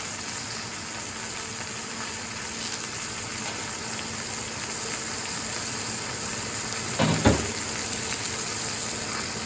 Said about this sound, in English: We're going to brown it for 2 minutes on each side.